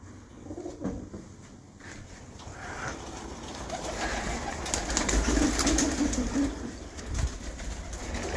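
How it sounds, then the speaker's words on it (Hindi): Pigeons sent over from Pakistan coo in low, rounded calls, with a few soft flutters, over steady close background noise, and no talk. "अभी ये कबूतर मुबशर ने मुझे ये कबूतर भेजा है"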